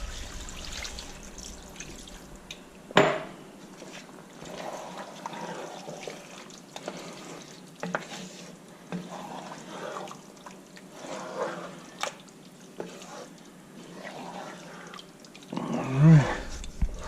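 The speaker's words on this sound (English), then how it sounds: "I'm gonna put a little water in there right now" Water is poured into a pan of seasoned venison being cooked as sauce picante, giving a soft, steady trickle and splash that runs for several seconds at moderate loudness, with no talking.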